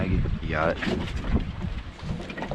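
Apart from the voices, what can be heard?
wind blowing on a boat at sea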